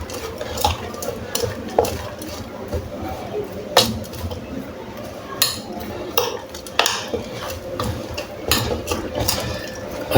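A spoon stirs a wet vegetable mixture for besan naan in a bowl, with repeated scraping and light clinks of utensil on dish in an uneven rhythm, close and moderately loud, over faint background noise.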